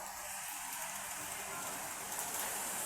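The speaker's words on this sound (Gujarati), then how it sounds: "આ બાજુ પર વરસાદ ચાલુ જ છે" Rain falls steadily at a hillside Mahadev temple, a dense even patter on surfaces close by with no break.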